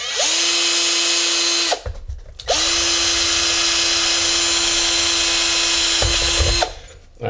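Power drill bores a hole in a ham radio antenna feedpoint, a steady loud whine running in two long bursts with a short pause between and a brief stop near the end.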